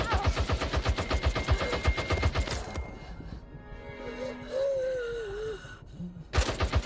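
A rapid string of gunshots rings out in the Peaky Blinders VR game, loud and evenly spaced, then stops abruptly, leaving a quieter stretch with tonal whistling before a final sharp burst.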